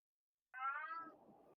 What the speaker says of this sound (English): I can hear that cat over 2 air filters